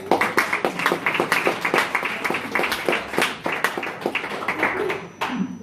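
Guests at an 80th birthday celebration clap their hands in brisk, close applause, with a brief voice rising as it winds down.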